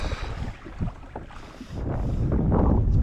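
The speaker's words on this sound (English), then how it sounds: "the wind has certainly picked up in the last 20 minutes" Wind gusting over open water near a small boat during sea grass fieldwork, a steady broadband rush that swells and grows louder toward the end, with no voices.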